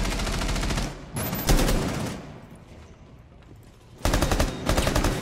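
Rapid automatic gunfire from a Rainbow Six Siege match, loud close bursts at the start and again near the end, separated by a quieter stretch of muffled game ambience.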